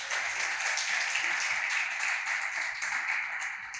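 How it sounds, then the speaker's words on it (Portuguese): A church congregation claps together during an evangelical sermon, a steady, even round of applause from many hands filling the room without a break. "Aplauda ao Senhor, isso é maravilhoso."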